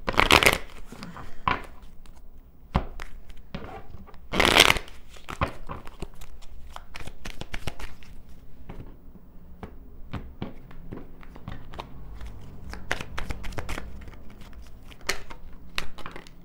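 A deck of tarot reading cards is shuffled close up, with two strong riffling bursts and many quieter card taps and flicks in between, and no talking.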